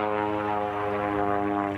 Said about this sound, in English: His plane is a Pitts Special from 1974 and has 2 seats.